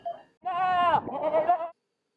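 A single goat lets out one loud, wavering bleat up close, starting abruptly and cutting off cleanly into silence.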